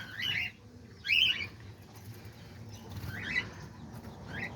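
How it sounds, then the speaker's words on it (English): Diamond doves give short, bright chirps in several separate bursts over a low background murmur, fairly close and moderately loud, with no talk. "Well, here's the diamond doves."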